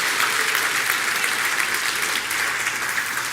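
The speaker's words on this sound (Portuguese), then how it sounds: "Dá uma salva de palmas a Jesus aí" Applause from a church congregation, a dense, steady wash of many hands clapping loudly and continuously throughout.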